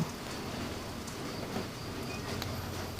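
Steady patter of falling rain, a soft continuous hiss with occasional faint drips, no talking.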